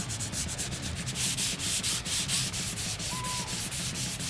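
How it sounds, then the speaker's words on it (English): Sandpaper is rubbed by hand back and forth over the dried, stained wooden top of a desk, a close, rhythmic rasping scrape with about a dozen even strokes, heard alone. "I decided to give it a rough sanding after the stain had dried."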